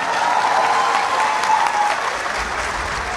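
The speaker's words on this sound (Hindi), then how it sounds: "इनके लिए बहुत भरपूर तालियां।" Audience applause for a poet at a poetry reading: a broad, sustained wash of many hands clapping, loud and even from start to finish, with a faint crowd murmur and no clear speech.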